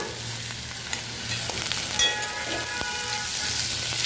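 Chopped onion and capsicum stir-fry in a hot pan with a steady, close sizzle, broken by occasional scrapes and clinks of the stirring spoon.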